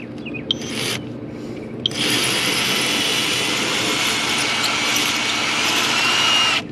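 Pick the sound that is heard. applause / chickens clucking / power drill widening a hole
power drill widening a hole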